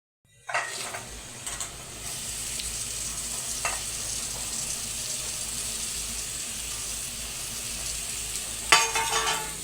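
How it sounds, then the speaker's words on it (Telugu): Ridge gourd pieces fry in a pan with a steady, close sizzle and occasional stirring clinks, growing a little louder near the end, with no one speaking. "ఫ్రై అయ్యాక ఇప్పుడు బీరకాయ ముక్కలు గుండిగా పేగిపోయినాయి బీరకాయ ముక్కలు అయితే వేసేసుకుందాము"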